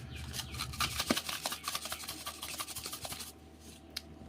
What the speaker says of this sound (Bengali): তো আরও দুটো মরিচ দিয়ে দিলাম চটকিয়ে